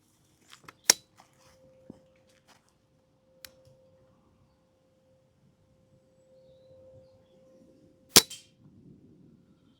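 Two sharp, isolated airgun shots from a TX200 Hunter Carbine at a 25-yard target, spaced several seconds apart, each a crisp close crack followed by a faint metallic ring, with quiet handling noises in between.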